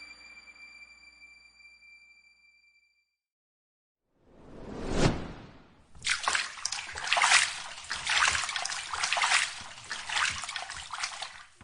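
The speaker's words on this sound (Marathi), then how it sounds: "तोंडावर जोरजोरात पाणी मारल्यावर त्याला जरा तरतरी आली" Water is splashed forcefully onto a face in a staged drama scene. A short tonal sting fades out, then after a pause comes a single swishing whoosh, followed by several seconds of close, vigorous splashing.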